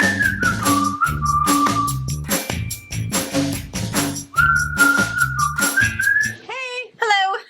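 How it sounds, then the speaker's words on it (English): A room heater whistles with a steady high tone that wavers and slides in pitch, with people talking over it and a few chirpy squeaks near the end. "Can you guys hear her heater?"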